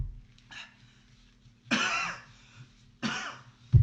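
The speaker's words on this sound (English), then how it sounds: "And you can tell from all the coughing." Three separate bursts of harsh coughing, close and fairly loud, with quiet pauses between them.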